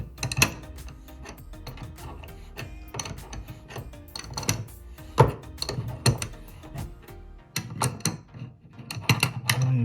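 A new Delta faucet valve is being tightened by hand during a leaky-faucet repair, making close, irregular metallic clicks, ratcheting ticks and knocks in quick succession, with a brief pause near the end.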